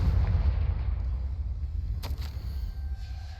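A Confringo fire spell blasts in Hogwarts Legacy, making a deep, rumbling boom that slowly fades, with a brief sharp crackle partway through.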